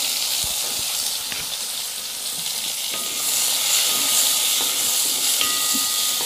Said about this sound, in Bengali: এবার আমি এর মধ্যে কেটে রাখা কাঁচা আমগুলো দিয়ে দিলাম